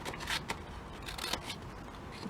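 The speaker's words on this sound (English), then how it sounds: "Where's my scissors? Let's cut that out" Scissors snipping paper for a junk journal, a few quick close crisp cuts with a soft rustle of paper in between, quiet overall.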